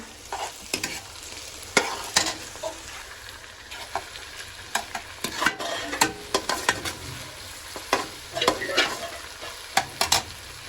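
A tadka tempering sizzles in a pan for a potato, cauliflower and pea curry with ground tomato and onion, under a steady frying hiss with frequent sharp spoon clicks and scrapes.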